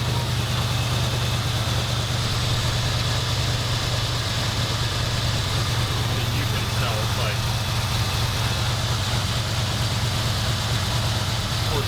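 A 1977 Ford F250 pickup with a modified 351 V8 idles high on choke, a loud, close, continuous low engine rumble with steady vibration, while someone talks over it.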